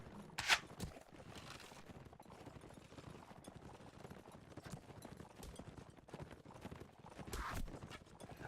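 Horse hooves clatter steadily through a busy battle game melee, an irregular clip-clop of several mounts mixed with dense clashing noise and a few sharp bright hits.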